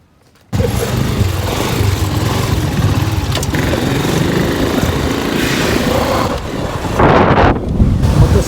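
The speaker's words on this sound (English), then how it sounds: "Now taking a motorcycle taxi." Riding pillion on a motorcycle taxi in a Chinese city, a loud steady engine drone mixed with heavy wind buffeting on the microphone, starting abruptly after a moment of quiet and continuing throughout.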